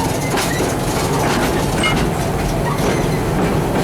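The Serengeti Express ride train at Busch Gardens rolls steadily along its rails, a continuous rumble with rhythmic clicking of the wheels, heard alone without talk.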